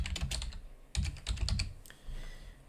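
Typing on a computer keyboard while setting up group access on a Windows Server 2019 machine: quick bursts of close key clicks in short irregular runs, with a brief pause between groups and no talking.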